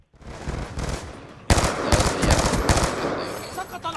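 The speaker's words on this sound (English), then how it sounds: "I think this gun has select fire." A select-fire gun shoots in the Call of Duty video game, rapid automatic bursts that are loud and close and follow a short quieter spell.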